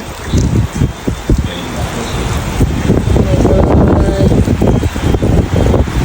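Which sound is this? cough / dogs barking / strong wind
strong wind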